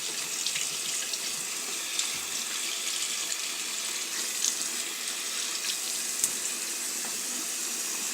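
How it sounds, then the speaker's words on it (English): A cleansing brush from a Pro X cleansing system is rinsed under a running tap, giving a steady close hiss of flowing water with small splashy bursts throughout and no talking. "rinse this brush. Rinse it off really good"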